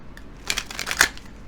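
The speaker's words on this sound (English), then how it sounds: "I do need to shuffle these a little bit here" A short burst of tarot cards being shuffled, a quick riffle of papery flutters and snaps lasting about a second, close by and fairly soft.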